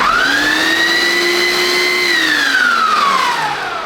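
A blender whirls egg cartons into papier mâché pulp, a loud steady motor whine that holds its pitch and then slowly winds down toward the end. Close and continuous, with no talking.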